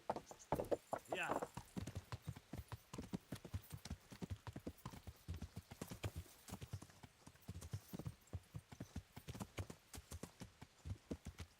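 Horse hooves clip-clop in a steady, close rhythm while riding in the medieval game Kingdom Come: Deliverance, with a brief neigh near the start and voices talking over the trotting.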